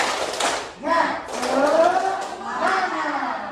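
A school class of seventh-grade children standing in a classroom and chanting and clapping a rhythmic 'tepuk semangat' spirit cheer together, voices loud and close with claps woven through the chant.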